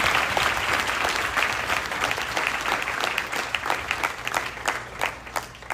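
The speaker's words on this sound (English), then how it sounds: "Everyone, please give them another big round of applause." An audience gives a long, dense round of applause, many hands clapping together at an event, loud and sustained throughout and easing slightly toward the end.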